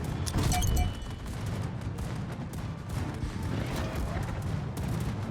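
Warship guns fire in a naval video game, an opening heavy boom followed by continuous rumbling battle noise with scattered thuds, loud and dense throughout.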